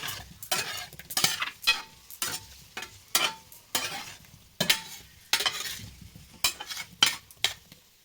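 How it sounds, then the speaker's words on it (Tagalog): Potatoes fry in butter or margarine in a pan, sizzling steadily while a utensil scrapes and stirs them in repeated close, loud strokes. "So, ayan, fried muna natin, guys. Pa-brown natin ng konti."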